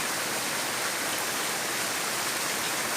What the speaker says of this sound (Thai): ได้เก็บภาพบรรยากาศฝนตกมาฝากทุกคนค่ะ